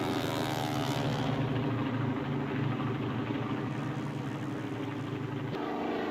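A propeller airplane flies overhead in the game American Truck Simulator, a steady droning engine hum that stays loud and continuous throughout, with a slight shift near the end.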